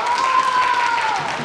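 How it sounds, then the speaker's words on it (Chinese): Classroom of students clapping together, a brief burst of dense, steady applause that fills the room, with a voice heard alongside it. "各位，鼓掌吧啊！"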